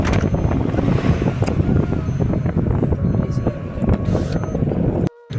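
Strong, cold mountain wind in the Uttarakhand hills buffets the microphone with a constant loud rushing roar, gusting heavily, ending in a sudden brief cut.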